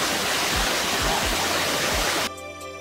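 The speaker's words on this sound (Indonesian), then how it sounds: "Air terjun Sekar Langit mempunyai ketinggian 25 meter dan memiliki debit air yang cukup tinggi sehingga mengalir meskipun pada musim kemarau." The 25-metre Sekar Langit waterfall roars as a dense, steady rush of falling water, loud and close, cutting off abruptly near the end.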